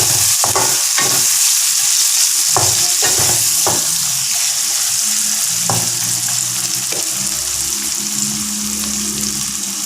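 Onions frying with ginger, garlic and a pinch of salt in a pan for prawn sambal: a steady, loud sizzle runs throughout, broken by several sharp scrapes and knocks of a spoon stirring against the pan.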